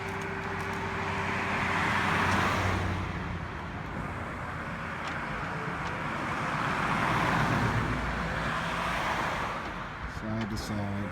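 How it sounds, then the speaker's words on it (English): A bucket truck's engine starts up, runs with a steady drone that swells and fades, then shuts off, with a few clicks near the end. "The truck turns itself on, the bucket goes fast, and then the truck shuts itself off, and it's going really slow again."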